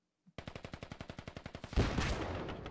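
Close, steady automatic gunfire in the Squad military shooter, with about sixteen evenly spaced shots in a quick burst that end in a loud, booming impact or explosion.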